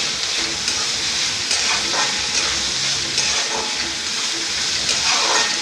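Chopped onion sautéing in a pan gives a loud, steady sizzle throughout, with soft scraping from repeated stirring and no talk.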